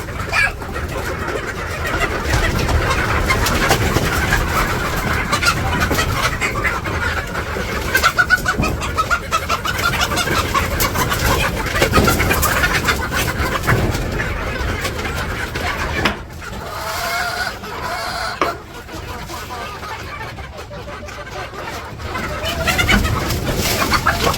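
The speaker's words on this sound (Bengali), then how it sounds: "এখন মুরগিরে খাবার দিব, প্রত্যেক দিন এমন করে" Village chickens cluck and call continuously at morning feeding time, a dense, steady flock chorus close by, with a brief dip in level partway through.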